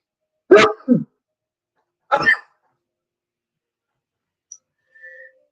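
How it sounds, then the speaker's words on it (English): A person sneezes close by, with a sharp two-part burst followed by another explosive sneeze a moment later, then near silence. "Oh, I got to sneeze."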